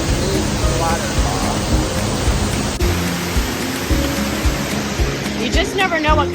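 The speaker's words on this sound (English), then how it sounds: "walking this stairwell, and checking out that amazing waterfall" A waterfall at La Fortuna roars as a loud, steady broadband rush, with faint bird chirps breaking through near the end.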